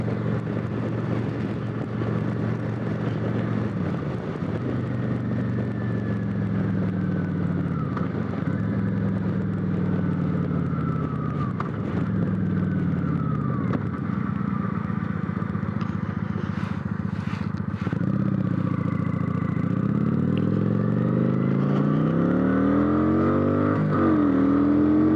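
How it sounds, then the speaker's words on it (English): A Kawasaki Vulcan 900 cruiser motorcycle pulls a roll-on acceleration, its engine drone rising and falling through gear changes under continuous wind buffeting on the microphone, recorded from the rider's position. "Not half bad on that roll-on acceleration."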